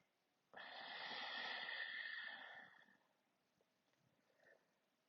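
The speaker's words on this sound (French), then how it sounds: "je bloque la narine droite avec mon pouce, expire à gauche." A long, steady exhalation through the left nostril during alternate nostril breathing in a yoga session, a soft airy breath lasting about two seconds, then quiet faint breathing afterwards.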